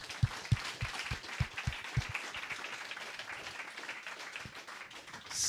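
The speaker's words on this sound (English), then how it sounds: "Give him one round of applause." Applause for a speaker at a StartUpGrind Vienna meetup, a smaller audience with sparse, distinct claps early on that soften into a quieter patter, moderately distant.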